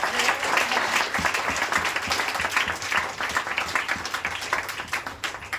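Audience applause for a guru at a motivational business gathering, dense steady clapping from a crowd lasting several seconds at moderate level, with faint voices mixed underneath.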